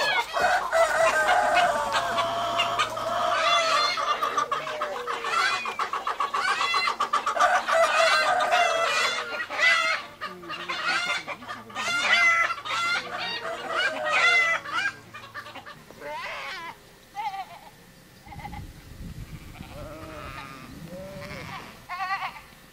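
Chickens cluck loudly and continuously in a farmyard alongside ducks, with occasional rooster crowing and bleating sheep mixed in, a busy layered barnyard chorus.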